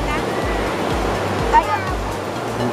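Surf rolling in along a long sandy beach at Tannum Sands, Queensland, a steady broad wash with low rhythmic swells, with voices faintly mixed in.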